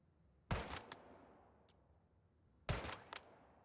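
Two sharp, quiet bursts of video game gunfire hit a practice dummy, each a short crack with a brief tail, about two seconds apart.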